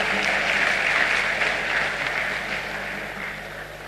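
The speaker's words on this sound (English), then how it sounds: "Please welcome him with a round of applause." A crowd at a formal ceremony gives a sustained round of applause for the Chief of Staff, a dense even roar of clapping that fades slightly toward the end.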